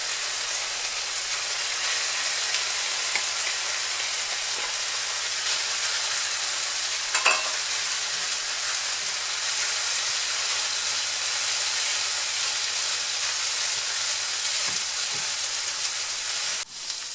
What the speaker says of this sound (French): Je vais pouvoir ajouter le riz.